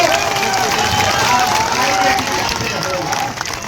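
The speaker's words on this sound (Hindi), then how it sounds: "अब जिसको जिसको ताली बजाना है बजा लो।" A crowd claps at a political rally speech in Bihar, a thick, continuous wash of hand claps that stays loud and steady, then thins slightly near the end, with crowd noise blended in.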